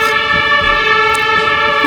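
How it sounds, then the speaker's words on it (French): A steady wailing siren tone holds throughout, loud and continuous with layered harmonics, like an emergency vehicle sounding nearby. "Vous entendez les sirènes qui sont en train de faire là."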